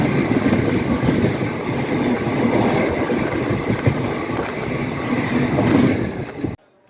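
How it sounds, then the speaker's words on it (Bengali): Ma Tara Express passenger train running on rails, a loud continuous rumble from inside with rhythmic clatter of wheels over track joints, cutting off abruptly near the end. "আমাদের ট্রেন পৌঁছে গেছে ব্যান্ডেল জাংশন স্টেশনে।"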